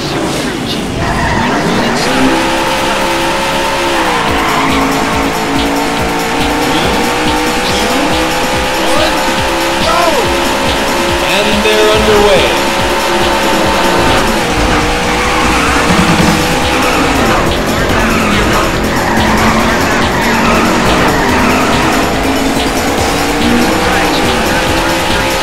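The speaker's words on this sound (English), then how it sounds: "Gentlemen, start your engines." In the Daytona USA arcade racing game, race car engines roar continuously and loudly while tires squeal and skid through corners.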